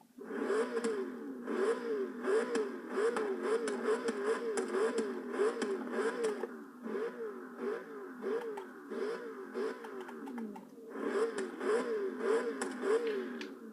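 A naturally aspirated Saleen S7 sports car engine in Forza Horizon 3 revs steadily with a throaty roar, rising and falling in repeated pulses, easing off briefly in the middle before picking up again.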